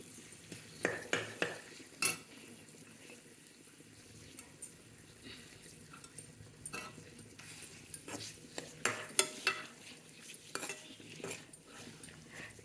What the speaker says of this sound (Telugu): కొంచెం నూనెలో వేగాలి.